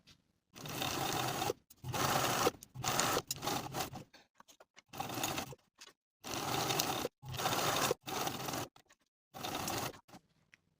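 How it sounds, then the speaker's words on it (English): A sewing machine stitches a pocket onto a double-breasted skirt in repeated bursts of a second or so, stopping and starting between runs, close and fairly quiet. "I'm going to stitch in place from top to bottom right along those finishing stitches"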